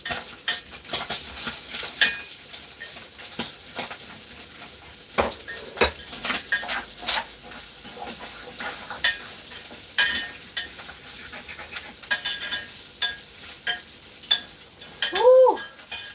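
Onions going into a hot pan while ramen is being made, giving a steady sizzle broken by repeated clinks and scrapes of a utensil against the pan.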